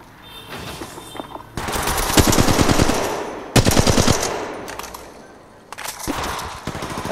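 Automatic weapons fire in Apex Legends: loud, rapid bursts of machine-gun shots in several sustained volleys separated by short pauses, close and dominant.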